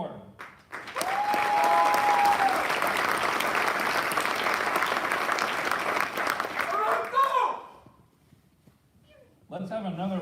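Sustained applause from an audience at a military fighter wing awards ceremony, full and even for around six seconds, then fading to near quiet before a voice resumes.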